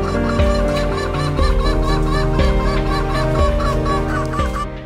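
Green junglefowl call in a loud, close, layered chorus of harsh repeated crowing notes, several birds overlapping in a steady rhythm for about five seconds with no talk.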